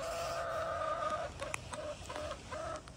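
Chickens cluck nearby, a rooster's drawn-out call at the start followed by several short, choppy clucks from hens, moderately loud with no talking.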